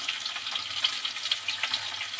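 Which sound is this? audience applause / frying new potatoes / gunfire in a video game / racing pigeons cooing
frying new potatoes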